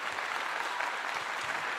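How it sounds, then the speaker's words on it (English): Steady, fairly faint clapping from a person or small group, a continuous patter of claps that keeps an even pace from start to end with no voices. "Let me clap you up."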